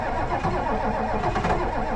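A Ford 7.3 Power Stroke diesel engine cold-starting at -43F, with a dense, rough cranking and churning engine rumble, loud and continuous throughout.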